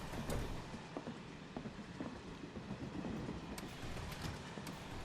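Steady rumble and rhythmic clickety-clack of a crowded passenger train riding the rails in Final Fantasy VII Remake, with repeated light wheel clicks over continuous low noise and no talking.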